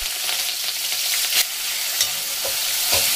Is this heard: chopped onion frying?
yes